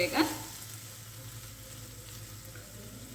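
Tomatoes fry in a pan for a chickpea curry, a steady soft sizzle with a brief stirring scrape at the start, quiet and close, with one short spoken word.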